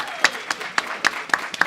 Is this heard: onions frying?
no